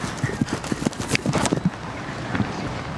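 Hooves of an old show jumper on the outdoor course at Spruce Meadows, a steady run of soft thuds and clops under gusting wind noise, moderately close, with no speech.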